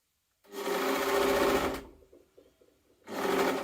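A sewing machine stitches jumpsuit waist pieces and bib in two bursts: a loud steady whirring run of over a second, a brief quieter stretch of slow stitches, then the motor kicks back up.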